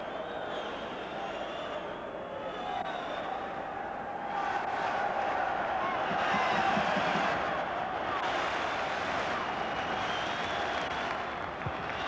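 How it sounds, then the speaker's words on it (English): A football crowd at a Rangers v Hearts match applauds a limping player leaving the pitch, a broad, steady wash of distant clapping that swells midway and carries on under the stadium noise. "the applause you hear now is for Ian Durrant limping round the pitch to go to the dressing room"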